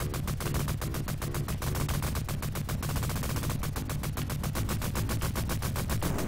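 Dense, continuous gunfire from the arcade game Cabal: rapid machine-gun bursts in an unbroken stream, loud and close, with no talk over it.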